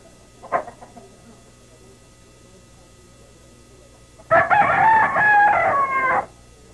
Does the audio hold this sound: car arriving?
no